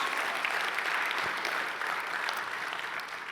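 A church congregation applauds, a steady wash of many hands clapping at moderate distance, sustained and even throughout without speech over it.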